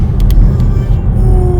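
A 2024 Volvo EX30 single-motor electric car pulls away under light acceleration, with loud steady road and tyre rumble filling the cabin and a faint electric motor whine rising toward the end, no one speaking.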